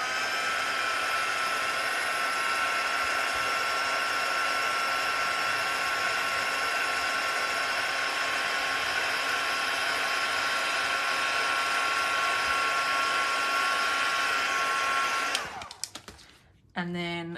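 A heat tool blows a steady, loud, whirring roar onto craft material, running unbroken for about fifteen seconds before cutting off abruptly, followed by a few brief clatters.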